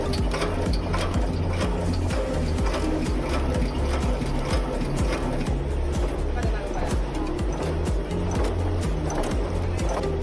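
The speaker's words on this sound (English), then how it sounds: "First, through the screw heading machine" Screw heading machine forming furniture screw heads in a factory, a fast steady mechanical clatter of rapid repeated strikes over a loud continuous machine drone, close and dense throughout.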